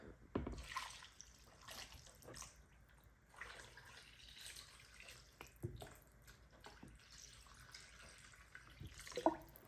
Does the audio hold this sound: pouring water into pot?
yes